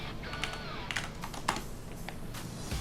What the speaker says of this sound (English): I'm actually going to go ahead and type that to them in Discord.